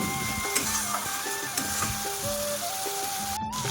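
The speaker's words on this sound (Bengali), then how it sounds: "তো এটা আমি কিছুক্ষণ একটু মশলাটা কষে নেব।" Spice paste cooks down in a pan for a home chicken curry. A soft sizzle runs under a rhythmic mechanical whir and repeated light scraping taps, with a rising tone near the end.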